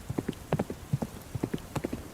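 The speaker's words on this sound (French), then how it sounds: "un chariot tiré par un cheval au galop vient fendre l'herbe et la boue des landes écossaises" Rhythmic clip-clop of hooves as a horse gallops pulling a cart over grass and mud on Scottish moorland, steady and fairly close, with no voices.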